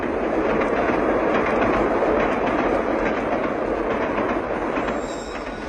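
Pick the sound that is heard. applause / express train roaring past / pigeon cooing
express train roaring past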